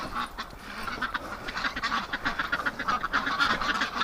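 A crowd of Muscovy ducks inside a barn calls in a loud, overlapping stream of rough honks and hisses, close and unbroken.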